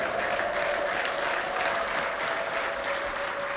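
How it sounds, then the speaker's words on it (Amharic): A church congregation claps during a worship service, dense, even applause filling the room throughout with no talking over it. "ለዚህ ጌታ እልልታና ጭብጨባ"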